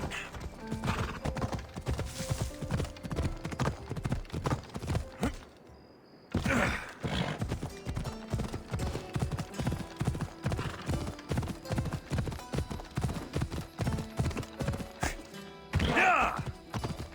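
Horses gallop hard in Assassin's Creed, a dense, rapid clip-clop of hooves that pounds on almost without pause, drops out briefly near the six-second mark, and includes a whinny toward the end.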